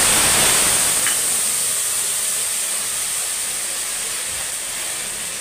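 Ginger paste sizzles in hot oil with chili and cumin powder, a steady loud hiss that eases slightly over a few seconds, close up and with no voices.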